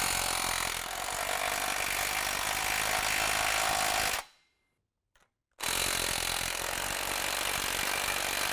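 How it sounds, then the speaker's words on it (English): A 16 mm socket on a power tool tightening the band clamp of an aFe Large Bore-HD exhaust system: a loud, continuous grinding whir, then a brief silent pause, then another sustained burst, close up with no talking. "tighten down the band clamp"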